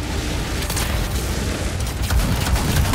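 Grenade blast in the sci-fi shooter Anthem: a dense, sustained rumbling boom with crackling bursts layered over continuous loud game noise, swelling again toward the end.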